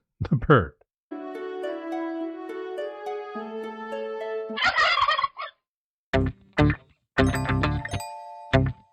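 A turkey gobbles in loud, rapid rattling bursts, then repeats a string of short, choppy gobbles after a pause; a second brief burst of noisy calls sits between them, with no one talking.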